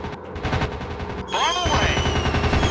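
A player's plane gun in a WW2 air combat video game fires as a continuous rapid rattle of shots, loud and close, over engine drone, with a sweeping whine joining partway through.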